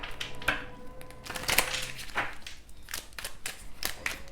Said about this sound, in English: Let's just shuffle again and see.